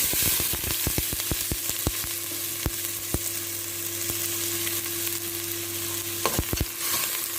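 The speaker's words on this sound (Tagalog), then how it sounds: "kung mainit na yung oil, ilagay ko yung onion" Onion dropped into hot oil in a pot, a bright steady sizzle with a burst of clicks and knocks at first, then a sustained hiss and a low hum, no talking.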